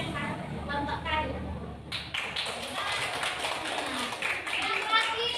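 A primary school class at SD Negeri 091608 Sinaksak claps hands together, the sharp broadband clapping starting abruptly and continuing steadily with chatter underneath.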